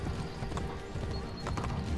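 Rhythmic clip-clop of horse hooves at a steady gallop in the video game Assassin's Creed: The Ezio Collection on PS4, loud and close, with a brief whinny and game-like background sounds.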